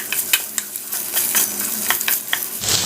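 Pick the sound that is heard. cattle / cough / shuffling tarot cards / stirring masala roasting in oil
stirring masala roasting in oil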